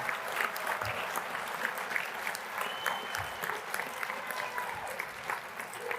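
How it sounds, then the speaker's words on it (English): An audience at a convention's opening general session applauds, a steady field of clapping at moderate distance with a few louder individual claps standing out, lasting several seconds. "Let's give them a hand of applause."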